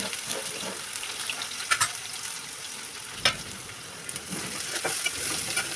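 Chopped onions sizzling in hot oil with bay leaf, cardamom, cinnamon and cumin, a steady close frying crackle with a few sharper stirring clicks, no voices.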